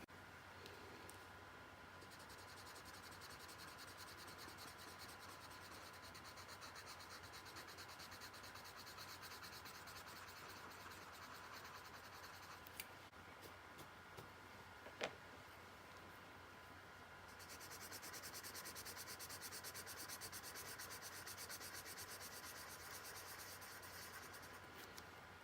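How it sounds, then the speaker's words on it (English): Steady soft scratchy rubbing of a blender pencil over paper during colouring, continuous and close, with slight shifts in intensity and a few small taps, no talking. "I have found a blender pencil."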